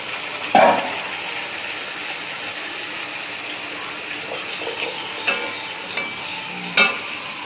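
Young jackfruit fries in a pan with prepared paste, giving a steady close sizzle and hiss with a few sharp clinks of stirring, and no one talking.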